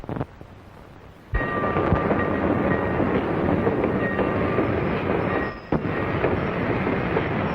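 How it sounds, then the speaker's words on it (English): Passenger train from an old western film running on rails, a steady loud rumble that starts abruptly and carries on with a brief dip near the end, with no talk. "It'll be nice and cool on the train, won't it, Mr. McNair?"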